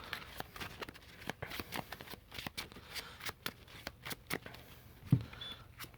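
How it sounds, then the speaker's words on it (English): A deck of Yu-Gi-Oh cards is shuffled by hand in a run of quick, crisp riffling bursts, close and moderately quiet, with one sharper knock near the end. "Let me shuffle."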